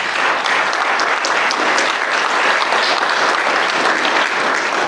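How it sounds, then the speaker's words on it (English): Loud, continuous audience clapping greets an inductee at a hall of fame induction for school athletics, a thick even wash of applause lasting the whole stretch. "Clap it up for Mr. Stewart"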